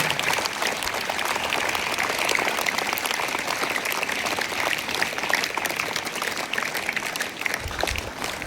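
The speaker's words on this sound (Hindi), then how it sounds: "लकी सर के लिए एक बार जोरदार ताली होनी चाहिए।" Students at a school morning assembly applaud their teacher with steady, sustained clapping from a large group, fairly far off and even in loudness, no speech.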